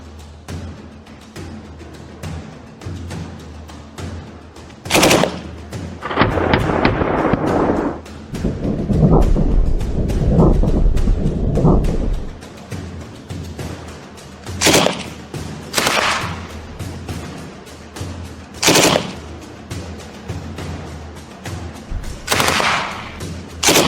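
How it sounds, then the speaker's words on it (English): An FN Minimi M249 light machine gun fires from a rest in several distinct loud bursts, sharp and close, with a longer rumbling volley in the middle and short separate bursts later. "The machine gun is quite accurate. I shoot with a rest."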